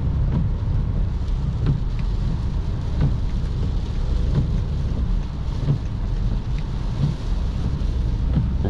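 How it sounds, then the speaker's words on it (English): Rain patters on a BMW X5 E70 3.0 sd (286 hp) during a city drive, under steady low road and engine rumble, with faint regular ticks of drops hitting the body. "Rainy today, guys."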